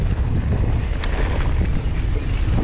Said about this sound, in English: It is windy also.